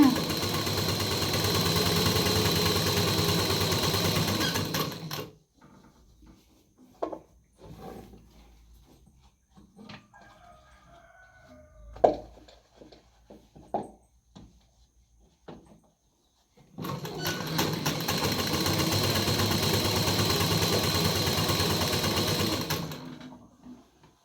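A sewing machine stitching a dress whirs loudly and steadily in two long runs at the start and end, with a quieter stretch between them holding scattered clicks and faint handling sounds.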